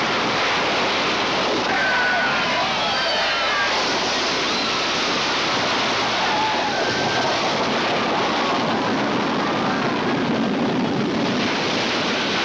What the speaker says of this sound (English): with thousands of gallons of water poured onto the sets and performers to complete this remarkable piece of special effects illusion